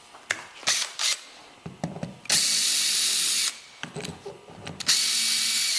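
A power drill backs screws out of the frame of a 1946 Chris Craft mahogany U22 boat bottom, with short stuttering bursts followed by two longer steady whines and a few clicks between them.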